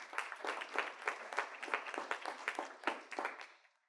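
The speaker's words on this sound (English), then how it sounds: "give Eve also a big round of applause" An audience at a debate on voluntary versus compliance carbon markets gives a steady round of applause, dense clapping from many hands that holds for several seconds, then thins and fades out alone.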